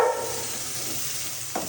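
An oggarane tempering sizzles in hot oil, a short, steady close hiss that ends in a small clink near the end, with no talk.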